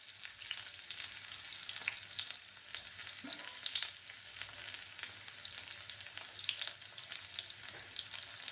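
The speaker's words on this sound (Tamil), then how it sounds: "கடுகு பொரிஞ்சிச்சு." Mustard seeds crackle and splutter in hot oil while tempering peanut chutney, a steady sizzle dotted with sharp little pops, close up and with no one talking.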